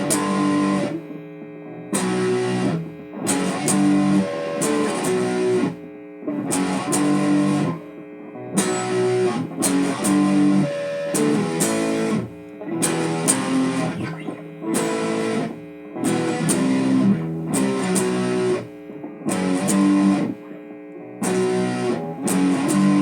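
Electric guitar chugs through the bridge chord changes of a song, loud, distorted, close-miked rhythm strums in repeated bursts with short gaps between, played alone without any talk.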